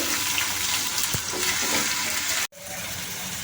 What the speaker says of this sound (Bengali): এবার একটু ভালোভাবে ভেজে নেব